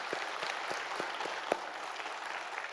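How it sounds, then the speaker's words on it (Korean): Congregation clapping together in a church service, a dense steady wash of many hands with a few sharper individual claps standing out, moderately distant and filling the whole space. "우리 이 모든 일을 이루신 하나님께 영광의 박수 한번 드리면 어떨까요?"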